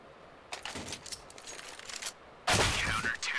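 Pistol fire from a USP handgun in a one-on-one aim_USP map duel in Counter-Strike, bursts of several close, sharp shots around the first two seconds, then a louder, denser volley near the end.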